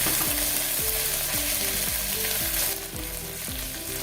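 Ginger and green chili paste sautéing in hot oil in a pan for Maharashtrian masale bhat, a loud continuous sizzle with repeated stirring scrapes and clanks of a spoon.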